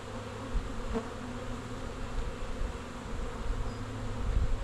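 Honey bees from a strong, fast-growing hive buzz in a dense, steady drone as a frame is shaken, a continuous close swarm hum that swells slightly toward the end.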